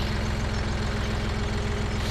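A John Deere 4790 engine runs with a steady, loud low-pitched diesel drone and rumble, unchanging throughout, with no talking.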